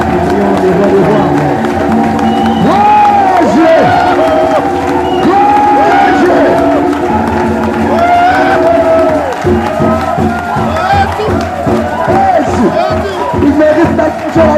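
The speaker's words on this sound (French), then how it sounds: "J'aimerais que nous acclamons les rois des rois." A church congregation cheers and acclaims during a worship service, sustained loud crowd shouting and clapping that runs for the whole stretch, with amplified voices and music sounding under it.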